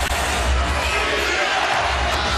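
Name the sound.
basketball arena crowd buzzing after a crossover shot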